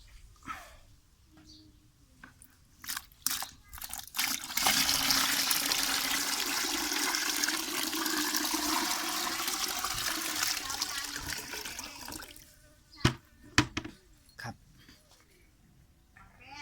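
About five litres of natural-source water rush into a mixture for growing mushroom culture, a loud sustained pour lasting several seconds between quieter knocks and handling, with someone talking before and after.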